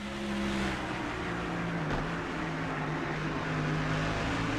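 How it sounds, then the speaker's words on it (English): Race car engine in NASCAR Thunder 04, a Honda-powered stock car under game audio, droning steadily with harmonic tones and crackly exhaust liftoff as fuel burns off coming out of a corner, close and continuous throughout. "You can hear the tailpipes, the exhaust, burning off some unburned fuel."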